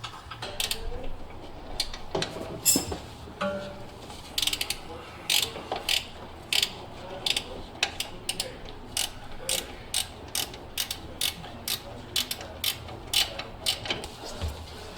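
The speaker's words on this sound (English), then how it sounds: "what I did was I used a 1/2 inch with an extension, and on the back I've got a 19 mil wrench just to hold the bolt in place" A half-inch ratchet with an extension loosens a coilover bolt on a Toyota JZX100 Cresta, giving a long run of sharp, rapid ratcheting clicks in close, regular bursts, with no talking.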